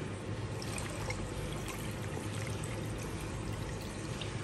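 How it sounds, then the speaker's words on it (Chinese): Water poured steadily into a cooking pot holding stir-fried pork intestines and hand-torn tofu skin, a continuous close splashing stream with no talk over it. "然后加水"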